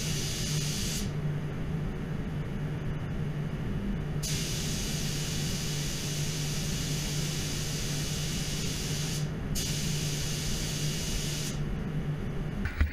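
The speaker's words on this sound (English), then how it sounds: "So it's a pretty intense day doing all that spray painting" Spray painting car audio parts pearl white for a Toyota 86 build: faint, hissing bursts of spray stop and restart several times over a low background hum.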